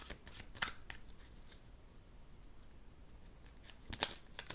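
Tarot cards drawn from a deck and handled, with two short crisp riffle-like bursts of card shuffling near the start and end against quiet room hiss, no talking.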